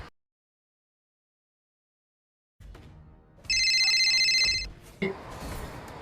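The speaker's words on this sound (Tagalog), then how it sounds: "Saglit lang, may tumatawag." An incoming call sets off a phone ringtone, a loud, bright electronic melody that plays for about a second after quiet background noise, followed by a sharp knock and room noise.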